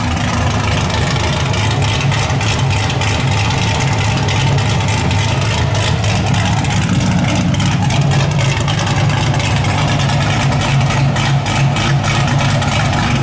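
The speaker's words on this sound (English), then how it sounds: "This does of course have our American Racing headers on it, and this car is straight piped." A loud, steady idle from a straight-piped car engine with American Racing headers and no mufflers, resonators or catalytic converters, a constant low rumble that stays close and even throughout.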